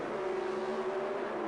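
Bob Glidden's Pro Stock drag racing car at the 1977 NHRA World Finals in Ontario, California, gives off a steady, distant engine drone, faint and even, with no voices.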